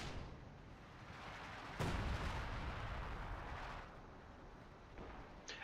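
Artillery fire in the video game Company of Heroes 2 as a counter barrage lands: a continuous rumbling roar of shelling, with a heavy, louder blast about two seconds in and a sharp crack near the end.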